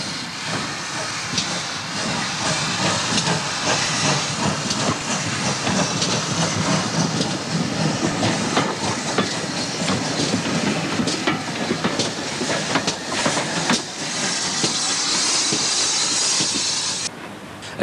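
An industrial steam locomotive hauls a track-maintenance works train, its loud, steady roar of hissing steam and running gear filling the air without a break before easing slightly at the very end.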